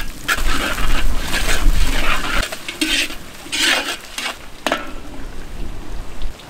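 A spatula scrapes and tosses scallions, Sichuan peppercorns, star anise, dried chilies and soybean paste in a sizzling iron wok before a fish head is braised. Loud metallic stirring strokes come in irregular bursts over the frying hiss, with no speech.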